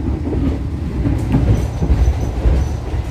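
The Argo Bromo Anggrek passenger train on a new-generation set runs at speed, around 112 km/h, just past Kosambi station, with a deep continuous rumble and a rhythmic wheel clatter, heard from inside the train.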